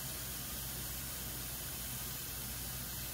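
Bok choy searing in a hot, oiled pan gives off a steady, even sizzling hiss that holds without a break, fairly faint and with no voices over it.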